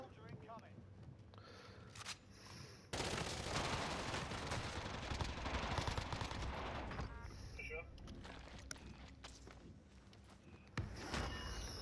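Rapid automatic bursts from a MAC-10 in Call of Duty Warzone, a dense fusillade that holds for several seconds in the middle, with scattered shots and faint footsteps around it and a voice talking over parts.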